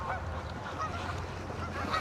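Geese honk repeatedly at close to medium range outdoors near Elkhart, Indiana, a steady chorus of overlapping nasal calls over a continuous low background rumble, with no talk over it.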